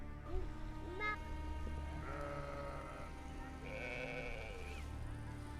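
Sheep bleat repeatedly in a large flock herded by a nomadic shepherd in the mountains, overlapping calls of varying pitch rising over a steady outdoor background, some close and loud, others farther off.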